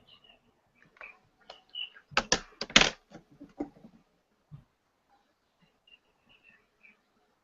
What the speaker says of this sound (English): I was typing that all wrong